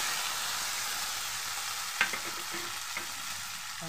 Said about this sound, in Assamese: ইয়াতে মই তিতা কেৰেলাখিনি ধুনীয়াকৈ ভাজি ল'ম